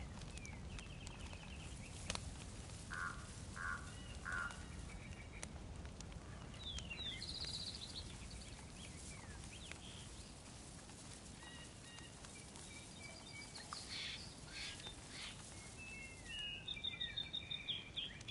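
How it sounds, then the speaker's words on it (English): Birds chirp in DayZ's Chernarus countryside, scattered high calls and trills repeating faintly over a low ambient rumble with occasional footsteps. "I love the sound of the birds chirping."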